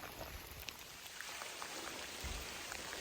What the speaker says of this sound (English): Just walking in the woods in the rain.